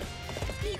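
Horse hooves clip-clopping in Dynasty Warriors 8 Empires, a few soft, muffled steps layered over a steady game ambience and music bed.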